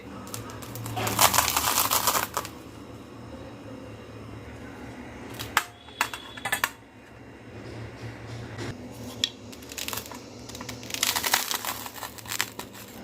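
Knife cutting through crisp bread toast topped with tomato sauce, a series of crunchy crackling cuts in bursts with quieter pauses and small knocks in between, close and fairly soft.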